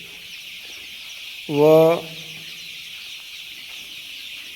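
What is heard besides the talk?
young free-range (gavran) chickens on a poultry farm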